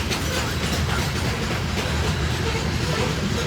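A train rolls past on the rails at a bridge, a steady close, loud rumble with clickety-clack from the railroad cars running continuously throughout.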